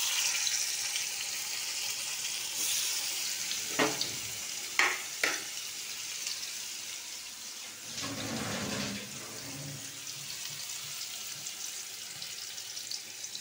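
Homemade chicken corn chops fry in oil in a wok, a moderate steady sizzle with a few sharp bursts and clatters as pieces are turned or added, no voices.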